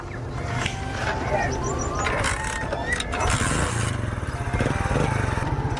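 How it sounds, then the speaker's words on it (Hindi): Superstar motorcycle engine starting near a river, a close, rough idle that settles into a rapid pulsing chug and grows louder toward the end. "सुपरस्टार मोटरसाइकिल को स्टार्ट।"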